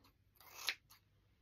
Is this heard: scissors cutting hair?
yes